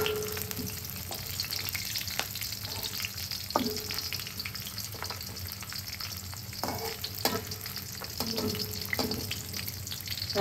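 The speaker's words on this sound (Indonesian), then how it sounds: "Goreng bawang sampai garing." Shallots and garlic fry in hot oil in a pan until crispy, with a steady close sizzle and crackle and frequent scraping stirs. No voices are heard.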